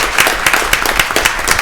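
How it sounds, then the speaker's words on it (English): An audience at a school board meeting claps for Illinois State Scouts, a brief burst of brisk, close applause with scattered individual claps standing out. "One more round of applause for our Illinois State Scouts."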